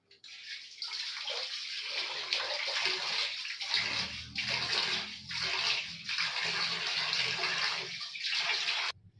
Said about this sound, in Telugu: దీన్ని ఇప్పుడు కూల్ వాటర్ తోటి అయితే ఫేస్ వాష్ చేసేసుకుందాం.